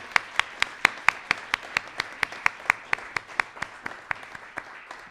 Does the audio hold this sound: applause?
yes